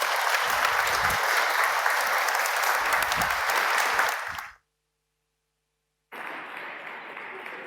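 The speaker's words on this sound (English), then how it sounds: "let us give her a big round of applause and welcome her on stage" A conference audience at a startup networking event claps to welcome the Commissioner on stage, loud sustained applause that cuts off abruptly into silence, then resumes after a pause.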